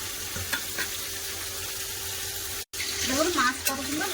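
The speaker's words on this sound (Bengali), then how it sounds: "মাছগুলো একদম লাল করে উল্টে পাল্টা ভেজে নেবো" Fish pieces fry in hot oil, a steady close sizzle with occasional stirring knocks, briefly cut by a short dropout, with a voice faintly heard near the end.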